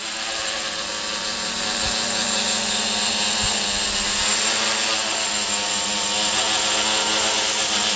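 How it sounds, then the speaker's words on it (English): An MJX Bugs 3 brushless quadcopter hovers nearby in a front yard, its motors producing a steady high whine with a buzzing vibration and a few faint thumps. "You hear a vibration in one of the motors."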